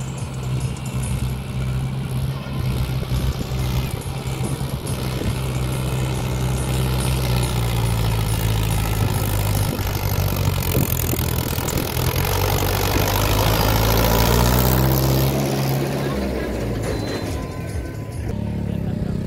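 A Mahindra Yuvo Tech Plus 575 tractor climbs a steep slope, its heavy diesel engine a loud, steady low rumble that swells and strains near the end.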